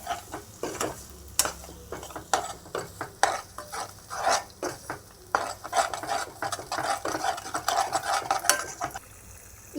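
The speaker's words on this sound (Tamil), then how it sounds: "வந்து நல்லா ஃப்ரை பண்ணிக்கலாம்." Red banana halwa made with country sugar fries in a pan, with a spoon stirring and scraping in frequent rhythmic strokes over a soft sizzle.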